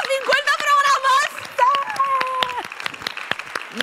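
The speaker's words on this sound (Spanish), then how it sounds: "¡Un aplauso, por favor!" A burst of clapping from a studio audience on a television show with excited shouts and cheering voices, the claps continuing in scattered rapid bursts as the cheers fade.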